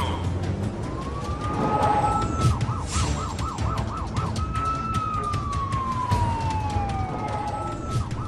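Loud ambulance siren wailing and yelping in city traffic, sweeping tones with a quick rapid warble section, close and continuous over a background of engine rumble.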